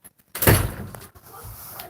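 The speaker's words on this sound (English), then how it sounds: "He closed the door." A door swung shut with a single solid thud, followed by a faint rattle and quiet room tone, close by.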